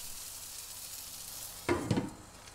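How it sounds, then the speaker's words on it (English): A cheese-topped burger patty in a ceramic non-stick frying pan: a quiet, steady hiss, then a sudden louder burst of sizzling and spitting for about half a second, fading back to a low sizzle. "The first food we try to make with it is burger."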